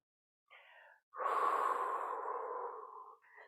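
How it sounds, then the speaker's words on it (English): A person exhales forcefully through the mouth during an abs and pelvis exercise class, a short breath followed by a long, loud, breathy outflow lasting about two seconds, close and clear with no talking. "So breathing out the mouth is quite good, is good for the nervous system"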